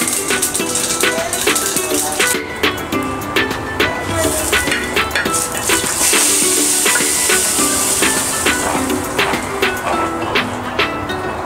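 Mustard seeds tempering in hot coconut oil for a drumstick-leaf curry, a steady loud sizzle and hiss with rapid crackling pops scattered throughout.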